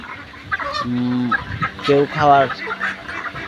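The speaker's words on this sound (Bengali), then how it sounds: "দেখুন মুরগিগুলো কীরকম করতেছে।" Chickens cluck and squawk close by in short, agitated bursts, with a few drawn-out calls rising over a quiet background.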